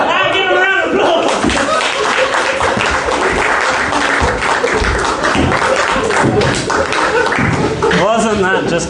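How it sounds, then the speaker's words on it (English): Audience round of applause at the KOI alumni show, a dense wash of clapping held at steady loudness throughout, with some voices and laughter mixed in near the start and end. "Now give him a round of applause."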